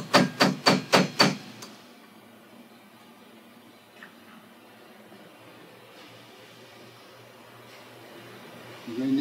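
A cotter pin on the clutch of a commercial jackshaft garage door operator is tapped into place with five quick, evenly spaced metallic knocks up close, followed by near silence and faint background rustling.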